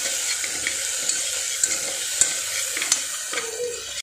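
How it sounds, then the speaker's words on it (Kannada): Sliced okra stir-fried in a hot pan with oil, giving a steady dense sizzle with soft scraping and stirring sounds and a few light clinks of the spatula, close and continuous. "ಇದಕ್ಕೆ ಬೆಂಡೆಕಾಯಿ ಉರಿದಿಟ್ಕೊಂಡು ಅಂತ ಬೆಂಡೆಕಾಯನ್ನ ಆ್ಯಡ್ ಮಾಡ್ಕೊಂಡಿದ್ದೀನಿ."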